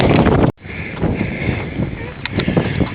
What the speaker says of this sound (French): il fait beau, mais il y a du vent